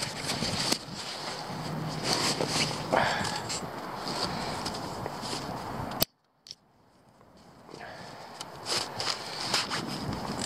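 Gusty wind buffets the microphone in loud rumbling bursts, briefly cutting out before the roaring gusts return.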